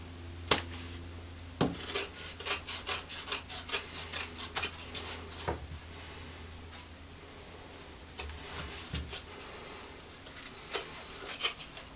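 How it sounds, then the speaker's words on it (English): Heavy leather armor plates have their bottom edges trimmed and corners nipped, giving a run of quiet rasping cuts and sharp snips in irregular clusters, close by with no talking. "We're just trimming the bottom edge and just nipping the corners."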